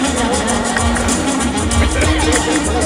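An audience applauds at a hospital anniversary function in Kalaburagi: dense, steady clapping fills the room, with a voice and a faint hum underneath.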